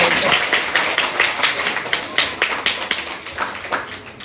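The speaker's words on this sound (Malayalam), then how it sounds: "അപ്പൊ മോൾക്ക് ഒരു കൈയടി കൂടി കൊടുത്തേ" Audience at a school assembly claps for a girl, a dense steady patter of many hands continuing throughout, fairly close and lively.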